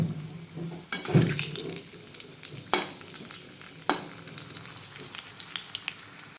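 Whole garam masala fries in hot oil in a pan with a loud, continuous close sizzle. A few sharp scrapes and clatters from stirring break through the sizzle.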